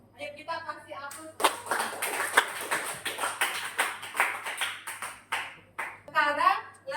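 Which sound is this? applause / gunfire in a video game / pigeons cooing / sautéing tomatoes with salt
applause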